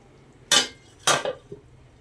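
A lid lands on a pot of bitter gourd masala curry with two loud metallic clanks about half a second apart, then a softer tap, in an otherwise quiet kitchen.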